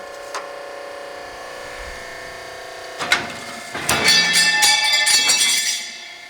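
A Betenbender 10-gauge, 5-foot hydraulic low-profile power squaring shear cuts a 5-inch strip of sheet metal: a steady hum, a sharp clunk, then a loud mechanical grinding burst that fades out.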